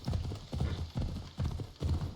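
Galloping horse hooves in the video game Assassin's Creed Odyssey, a loud, steady clip-clop rhythm repeating in close bursts with no talking over it.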